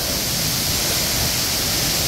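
A twin waterfall at Chitlang in Chainpur, Sankhuwasabha, Nepal roars as a dense, unbroken rush of falling water, loud and even throughout with no other sounds.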